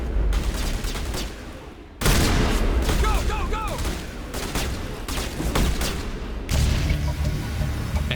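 Gunfire in Mass Effect Legendary Edition, rapid loud firefights with booms and weapon effects, heavy and continuous across the clip with voices shouting in between.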